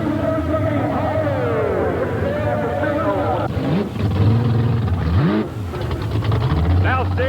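A Homebrew monster truck at a 1989 Bigfoot show revs its engine hard as it gets underway. The loud roar climbs and falls in repeated surges, then keeps rumbling steadily.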